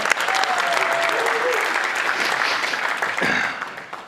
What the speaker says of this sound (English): Quick round of applause for Bianca